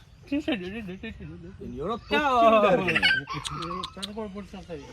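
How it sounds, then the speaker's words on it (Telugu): A chicken clucks in short, repeated calls at close range, mixed with people talking nearby. "కోడి పొడిచేస్తుంది."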